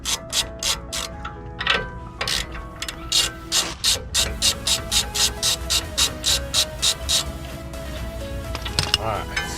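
A ratchet clicks quickly and steadily, close and loud, as it loosens bolts during axle removal on a wrecked 2020 Ford Escape, with brief pauses between runs of clicks.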